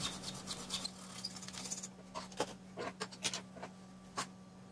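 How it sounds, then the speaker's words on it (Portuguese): Brushing or wiping solder flux residue off a laptop circuit board after trace repair; a faint rasping scrub runs steadily, then gives way to a few separate soft strokes, close and quiet with no talk. "Limpar o fluxo que a solda deixa."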